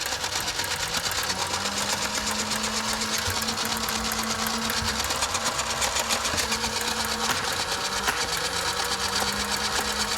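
Blaze Storm toy blaster motor running continuously, a faint buzzy mechanical whir with slight pitch wobble, steady for about ten seconds.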